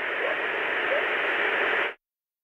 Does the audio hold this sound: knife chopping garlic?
no